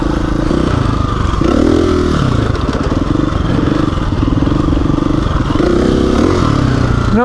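A motorcycle engine revs hard in repeated bursts during wheelie attempts, loud and close, rising and falling over a rattling idle with clattering mechanical noise between pulls.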